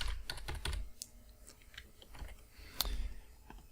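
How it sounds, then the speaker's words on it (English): Fast, uneven clicks of a computer keyboard being typed on, quiet and close, in short bursts with small pauses and one sharper keystroke near the end, with no one speaking. "type in Bitcoin news"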